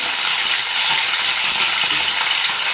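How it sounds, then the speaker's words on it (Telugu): Cumin seeds, coriander seeds and curry leaves sizzle and crackle loudly in hot oil, a dense, steady frying hiss heard close up with no talk. "ఆయిల్ వేడయ్యాక జీలకర్ర, ధనియాలు, కొంచెం కరివేపాకు వేసి"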